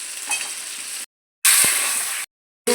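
Catla fish head frying with chilli powder in a hot wok gives a loud, bright sizzle in two bursts, with a silent gap between them and a short return at the end.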